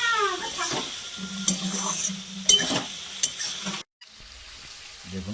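Fish frying in a pan while being stirred, sizzling throughout with sharp clinks and scrapes of a utensil against the pan, a voice talking over it before a brief drop to near silence.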